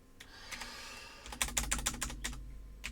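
Typing on a computer keyboard while programming, a few quick key taps followed by a dense run of crisp clicks, close and clear, with no talking.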